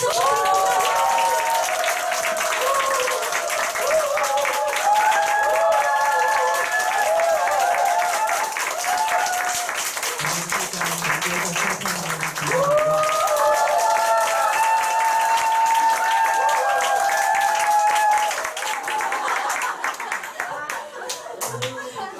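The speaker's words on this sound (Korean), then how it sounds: "김종호 사장님 모실 때 큰 박수 부탁드립니다" Audience at a Korean company group meeting and award ceremony applauds steadily for most of the stretch as a guest is welcomed to the stage, with brief musical tones and crowd noise mixed in before the clapping thins near the end.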